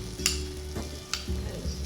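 Boiled vegetables being stirred into frying spices in a pan: a soft sizzle with a few sharp clinks of a spoon against the pan, under a low steady hum, and no talk.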